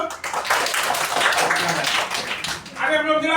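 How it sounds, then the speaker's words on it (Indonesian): Children in a classroom clap their hands together in a dense, steady burst of applause lasting a few seconds, close and loud, with a voice briefly speaking near the end. "tepuk tangan dulu"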